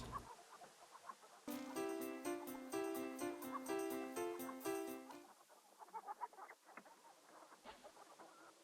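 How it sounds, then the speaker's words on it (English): Chickens cluck in the King's Quest 3 Redux video game, a soft scatter of clucks set against a bright, rhythmic music passage that plays for several seconds and then gives way to quieter clucking and rustling. "The chickens."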